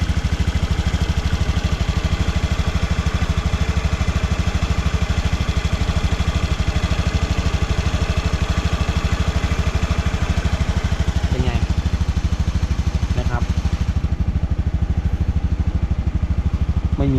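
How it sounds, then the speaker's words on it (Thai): A 2015 Honda Scoopy i scooter engine starts and settles into a steady, close, rapid clattering idle that runs on evenly, with a few brief clicks near the end and no voices. "สตาร์ทแล้ว ฟังเสียงเครื่องดูครับ"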